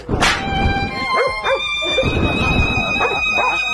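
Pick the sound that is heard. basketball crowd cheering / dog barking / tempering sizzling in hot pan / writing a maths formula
dog barking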